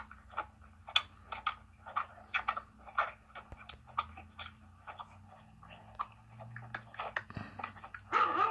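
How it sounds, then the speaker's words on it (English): A dog barks repeatedly in short, regular bursts at a moderate distance, nearly a bark every half second, with a louder sound at the end. "Somebody's barking."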